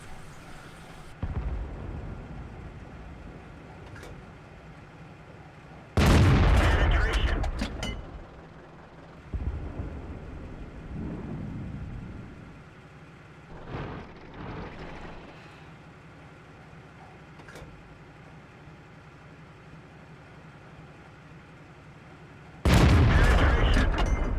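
Tank cannon fire in World of Tanks from an AMX ELC, with several loud booming shots spaced far apart and quieter engine rumble and battle noise between them.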